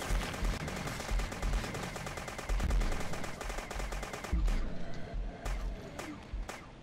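Rapid automatic gunfire from a zombie shooter video game, dense continuous bursts with heavy low thumps, dropping to sparser separate shots near the end.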